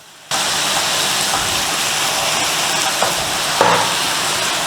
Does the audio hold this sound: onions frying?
yes